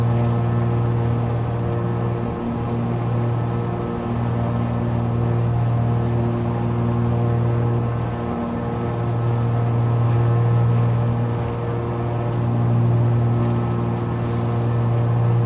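Steady piston aircraft engine drone in cruise flight at 8,000 feet in Microsoft Flight Simulator, a continuous loud hum with strong low harmonics that holds evenly throughout, no talk over it.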